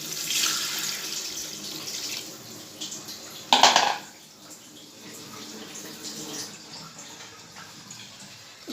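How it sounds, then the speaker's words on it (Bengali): Water is poured into a frying pan of fried ingredients in a home kitchen. A continuous splashing rush swells into a brief louder gush midway, then settles to a lighter trickle. "চলো জলটা দিয়ে দিই।"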